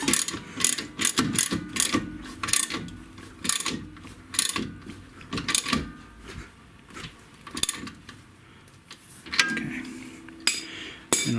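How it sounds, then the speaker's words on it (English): A ratchet tightening the rear coilover bolts on a 1994 Mazda Miata clicks in close, irregular bursts of sharp metallic clatter separated by short pauses. "Now we're going to tighten down everything that we need to tighten down."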